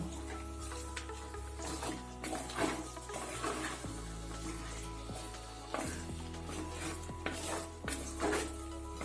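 Chicken sukka is stirred in a pan with a spoon, giving repeated scraping and clinking strokes over a soft, steady sizzle, at an uneven rhythm and close to the listener.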